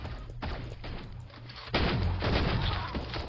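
Rapid video game gunfire crackles in dense bursts, one shorter volley followed by a louder, longer stretch of continuous shots.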